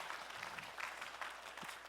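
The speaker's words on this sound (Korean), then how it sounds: "오늘 특별히 봉헌해준 우리 박윤경 지사님, 정민이, 정은이 큰 박수로 해주시면 감사하겠습니다." A church congregation claps during a service, a soft, steady patter of applause at a distance that holds evenly through the whole stretch.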